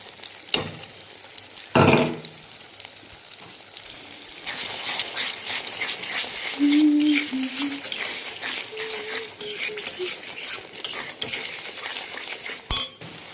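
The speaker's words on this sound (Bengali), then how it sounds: "দিয়ে ভালো করে কষিয়ে নেব" Masala paste frying in a pan for prawn malai curry, with clinks and scrapes of a spoon against the pan over a soft sizzle and a few louder knocks.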